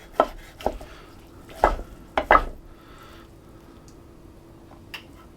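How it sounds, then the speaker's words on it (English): Several sharp knife chops through cooked duck meat and bone on a board, a cluster of uneven strikes followed by a quieter pause and one last light tap. "I'm just going to start chopping this meat up."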